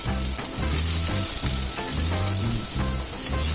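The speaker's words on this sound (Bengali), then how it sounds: "পেঁয়াজটা কিন্তু আমি বেশি কড়া করে ভাজবো না, একদম হালকা করে ভেজে নেব" Three finely chopped onions fry in plenty of hot oil in a wok, giving a loud, dense, continuous sizzle with a faint rhythmic pulsing, close and alone.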